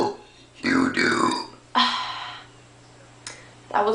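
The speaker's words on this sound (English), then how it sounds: "That was a burp" Several loud, close burps come from a person, one after another with short pauses between them, and the last one starts right at the end.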